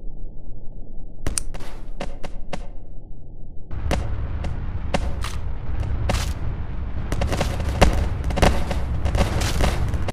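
Gunfire from a weapon in the video game Melon Playground, sharp popping shots at first sparse and single, then quicker irregular bursts layered over a low rumble.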